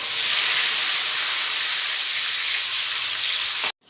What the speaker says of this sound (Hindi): अब हम इसके अंदर डालेंगे हाफ़ टीस्पून हल्दी नमक का घोल